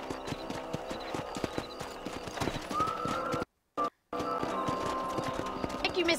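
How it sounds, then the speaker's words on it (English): Horse hooves clop rapidly in a galloping rhythm in a video game, close and clear, broken by a brief gap of silence before the hoofbeats resume with a neigh. "My horse is kind of special."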